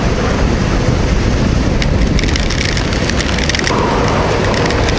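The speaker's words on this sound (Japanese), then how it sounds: "せっかくの雨勘弁して" Heavy rain pours during a motorcycle trip across Kyushu on a VTR250, a loud, dense, steady hiss with scattered sharper drops and splatters, no voices.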